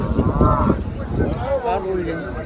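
A buffalo at the Dhule buffalo market gives two deep, drawn-out moos close by, the second longer and wavering, over a low murmur of background noise.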